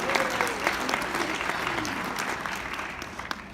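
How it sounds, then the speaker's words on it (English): Audience applause fills the whole stretch, a dense, steady wash of many hands clapping at moderate loudness with a few sharper claps standing out, and a faint voice briefly underneath. "I want a round of applause for our friends here."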